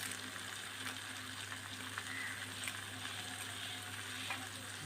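Thinly sliced medium onions and curry leaves frying in oil for a chicken dish, a dense continuous sizzle with a faint crackle throughout, steady and close.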